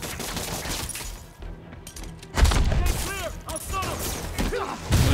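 Bursts of gunfire in Spider-Man on PS4, loud cracks and rattling volleys kicking in midway over busy game sound, with other effects scattered around them.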